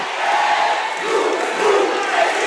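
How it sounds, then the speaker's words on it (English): A home crowd at an Atlantic City versus Cherokee high school basketball final roars with sustained cheering and yelling, a loud, dense wall of voices throughout. "You can hear the Atlantic City crowd."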